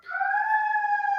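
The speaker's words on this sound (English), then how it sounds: "Sorry for that siren in the background." A siren wails steadily in the background, a sustained tonal note rising slightly in pitch, heard alone without talk.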